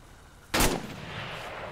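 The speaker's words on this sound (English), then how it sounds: "I'll fire off a few tracers and we'll see" A single loud tracer round fired in the military game ArmA III, a sharp sudden crack followed by a fading rolling tail against quiet background ambience.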